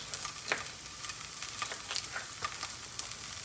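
Vegetables sautéing briefly in a pan for an omelette, a soft steady sizzle with light crackles and a few sharper ticks from stirring, fairly quiet and close, no talking.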